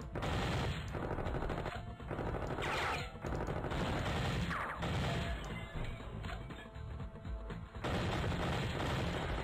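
Gunfire in a Flash video game rattles in loud, dense machine-gun bursts with crashes mixed in. Brief pauses break up the long, continuous volleys.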